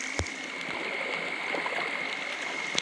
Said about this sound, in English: the creek's just starting to fill up from all this rain.